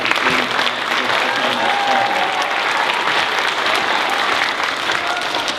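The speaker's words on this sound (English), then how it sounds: "So let's give them a big round of applause." Crowd at an elementary school ribbon-cutting ceremony gives the school design team a round of applause, a sustained, fairly close patter of many hands with faint voices mixed in.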